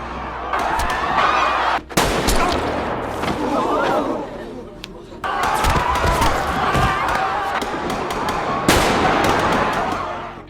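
Loud gunshots and booming fire burst out over a panicked crowd as contestants in a deadly game are shot during a film scene, with sharp cracks and screaming voices layered under spoken narration.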